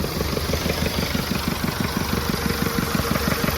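A 1981 Jeep CJ7 with a 2400cc diesel engine idling, a close, steady rhythmic chug of rapid even pulses with a diesel clatter over it.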